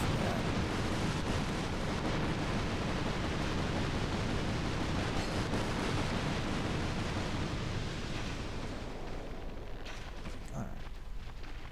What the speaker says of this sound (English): Let's watch out for that flamethrower again.